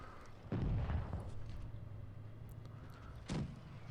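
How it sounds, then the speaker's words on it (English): Two booming cannon shots from an M4 Sherman tank firing HE shells at a Hetzer in the game WOT Blitz, the first at the start and the second near the end, over a low rumbling engine drone. "I'm shooting HE into a Hetzer."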